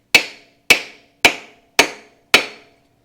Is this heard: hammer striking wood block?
yes